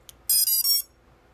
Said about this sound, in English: you'll hear only 3 beeps.